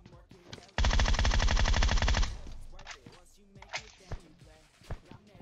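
Automatic gunfire in PUBG Mobile, tied to an M24 rifle, as one loud, fast, continuous burst lasting about a second and a half, followed by scattered fainter game clicks and thuds.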